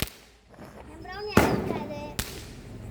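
Small firecracker cake of 25 shots bursting outdoors: two sharp loud cracks about a second apart, with a whistling rise before the first, over background voices and ambient noise.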